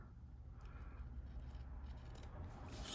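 Scissors snip the paper corners of a wintry junk journal, a soft steady rubbing and scraping close by, faint and continuous with no talk.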